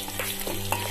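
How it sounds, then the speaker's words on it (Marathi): Chopped garlic cloves sizzle in hot oil as a tempering for chutney, a steady close hiss with faint crackles and a low hum underneath, unbroken for the whole moment and without any talking. "यासाठी थोडस तेल घेऊन त्याच्यामध्ये लसणाच्या पाकळ्यांचे तुकडे करून टाकलेले आहेत"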